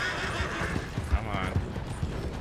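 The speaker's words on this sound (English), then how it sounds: "This is a war horse, not a race horse." A horse in Red Dead Redemption II whinnies and its hooves clop in short, uneven thuds over steady background noise.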